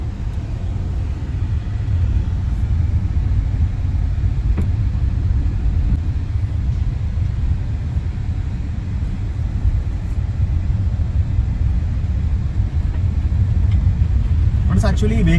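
Kia Sonet with a 1-litre engine on a test drive, a steady low cabin rumble of engine and road noise throughout, with a person talking over it.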